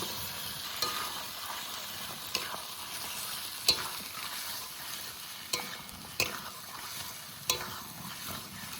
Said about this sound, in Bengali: এবার মাছ দিয়ে দেবো, লবণ হলুদ মাখানো মাছ আর একটা তেজপাতা।